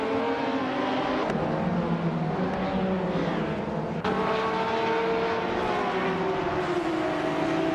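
Several 1998 Ford Mondeo race car engines in a racing video game, loud steady droning and rising revs of cars running side by side down a straight, with a couple of sharp gear-shift clicks.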